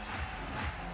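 Austrian fans cheer at a beach volleyball match against Germany, a brief burst of dense crowd noise.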